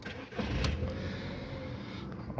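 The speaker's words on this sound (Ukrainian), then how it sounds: "Зараз заведу автомобіль." Volkswagen Golf IV with a 1.6 MPI petrol engine cranking and catching, a short close burst of starter whirr settling into a steady idle.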